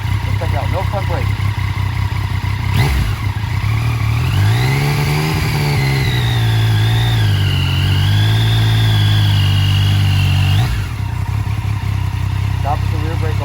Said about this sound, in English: So you raise the RPM, the bike is going to want to try to go, so you have to keep that RPM nice and high.